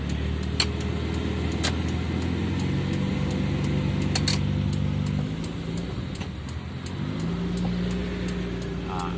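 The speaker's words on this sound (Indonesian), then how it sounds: "Ngenteni mobil iki metu sik." A car engine runs steadily as the vehicle pulls out of a parking spot in front of an arts council building in Malang, with some light clinking and a shift in engine pitch partway through.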